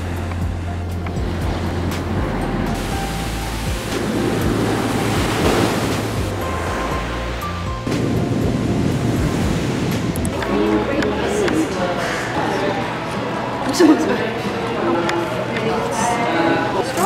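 Waves break on a beach in Zambales, Philippines, making a steady rushing surf roar with gusts of wind buffeting the microphone, while a voice talks over it.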